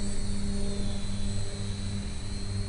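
Blade MQX radio-controlled helicopter flying, a steady close motor whine with tonal hum running unbroken and fairly loud throughout, with no talking.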